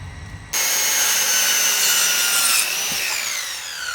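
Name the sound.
sawing a wooden baseboard along a marked line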